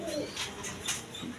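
Pigeons coo softly in a low, rounded murmur, faint and close, with a few brief higher chirps over steady background hiss.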